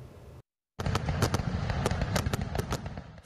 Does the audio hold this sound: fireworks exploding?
yes